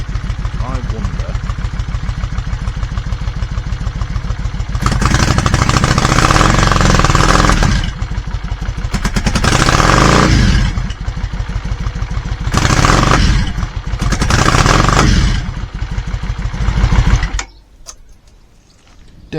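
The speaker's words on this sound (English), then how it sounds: "Starts okay-ish, doesn't want to rev up. Sounds like it starts misfiring as soon as you do." A small engine idles roughly and sputters as it is pushed to rev, stumbling and misfiring in uneven bursts of loud, rattling clatter before cutting out near the end.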